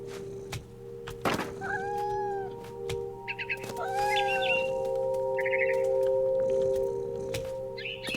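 A cat meows several times in the video game What Remains of Edith Finch, with drawn-out rising and falling cries alongside chirping bird calls over a steady ambient hum.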